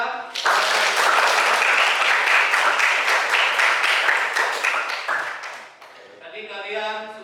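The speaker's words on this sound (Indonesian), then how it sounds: "silakan lihat tepuk tangan untuk kelompok 3" A classroom full of people claps for group 3 after their presentation, sustained and loud, with the clapping fading at the end as a voice begins speaking.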